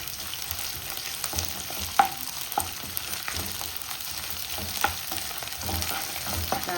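Ginger garlic paste and green chillies fry in a pan with curry leaves, giving a steady soft sizzle broken by occasional spoon taps and stirring scrapes, with no talking.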